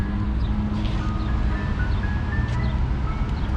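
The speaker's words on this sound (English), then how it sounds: "the ice cream truck is everywhere, guys" An ice cream truck plays its tinkling jingle tune somewhere along the street, thin and moderately distant, over a steady wash of outdoor city noise with no voices.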